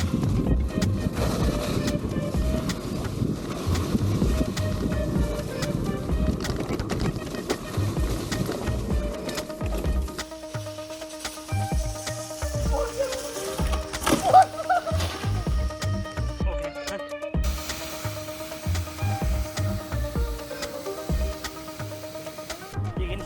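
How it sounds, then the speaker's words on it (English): A Voromotors Roadrunner Pro mini e-bike rides over bumpy terrain, giving a steady rumble with rattling vibrations and a thin motor whine, recorded close from the rider's position throughout. "Hear a few vibrations, especially when you go over bumpy terrain."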